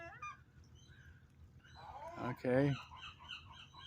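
A seagull gives a couple of loud, harsh honking calls at close range near a baby gull, with a quiet voice briefly heard beside it.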